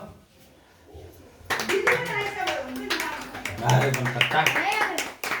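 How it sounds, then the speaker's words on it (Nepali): Hands clap repeatedly in a quick, uneven rhythm while people, including a child, talk over them nearby. "ताली पड्का"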